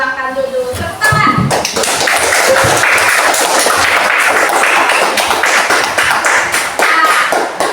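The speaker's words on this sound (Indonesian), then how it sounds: "Tepuk tangan." A class of schoolchildren claps hands loudly and continuously in a classroom, a dense burst of near applause starting after a second of talk and holding steady to the end, with children's voices under it.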